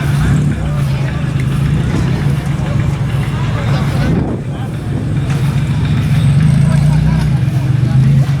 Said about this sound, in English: There's another one rolling in for the front wheel drive class.